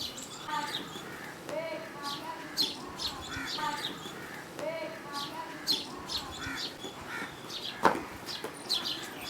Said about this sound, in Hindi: दरख्त पूरा चिड़ियों से भरा हुआ अंदर